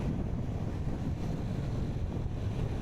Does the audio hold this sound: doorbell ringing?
no